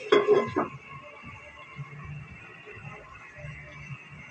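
A metal lid is set onto a pan of tomato sauce simmering on the stove. It lands with a sharp clatter and a brief rattle, then a low bubbling hiss carries on underneath.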